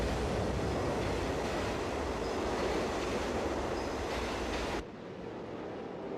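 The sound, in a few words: subway train approaching on the tracks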